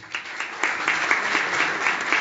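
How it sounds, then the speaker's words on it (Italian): An audience at a meeting with film director Maria Tilli breaks into steady applause, many hands clapping in a close, even patter that builds slightly and holds through the clip. "Un applauso"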